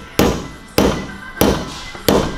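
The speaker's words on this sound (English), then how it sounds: "this little slide hammer drop down a little bit" Four sharp metallic thuds of a slide hammer dropping onto a Harley-Davidson motorcycle fork tube, installing a bushing, at a steady, slightly uneven pace, each ringing briefly before the next strike, close and fairly loud.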